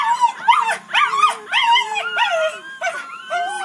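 A mother dog cries after her four puppies were taken away, giving a close, loud series of about seven rising-and-falling whimpering howls in quick succession.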